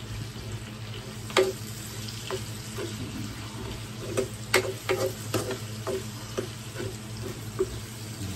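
Shrimp paste (alamang) fries and sizzles in a pan with a steady crackle, punctuated by several sharp clinks and scrapes of stirring, with no talking.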